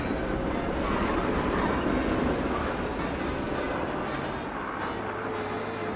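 A tram in a video game rolls past with a continuous rail rumble and faint clatter, loud at first and gradually fading.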